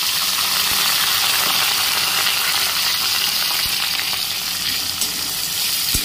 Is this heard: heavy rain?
no